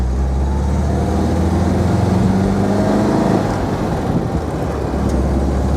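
A 1980 MG B runs while driving, its engine a steady low drone whose tone rises briefly as it pulls through the gears, loud and close, with wind noise over it and no talk.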